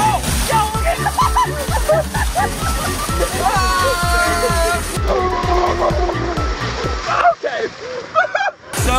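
Fire hose blasting water into the steel bed of a dump truck, a loud rushing spray with sloshing splashes throughout, under excited shouting voices.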